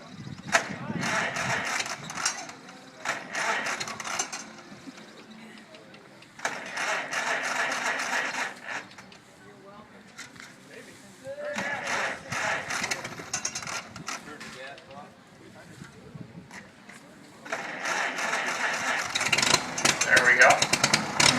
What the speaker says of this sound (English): So we're going to start up our Farmall H.